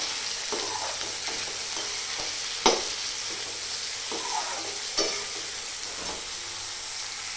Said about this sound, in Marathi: आता मी त्याच्यामध्ये टाकते टमाटर त्याला पण चांगलं मांसर होईपर्यंत परतू जायचं